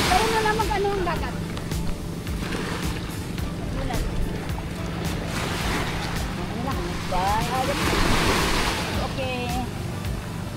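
Sea waves wash and slap against a small boat heading to Mararison Island, a continuous rushing surf under a droning motor, with voices calling out intermittently over the water noise.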